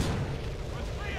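A single booming gunshot in the Call of Duty 2: Big Red One video game, loud and close at the start, its deep rumble decaying over about a second.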